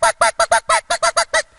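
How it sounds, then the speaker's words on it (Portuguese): A hen cackles after laying an egg: nine quick, loud, nasal honking calls in an even rhythm, close by with nothing else heard. "Já viu galinha quando termina de botar?"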